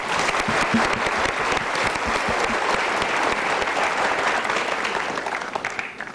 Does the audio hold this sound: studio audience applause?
yes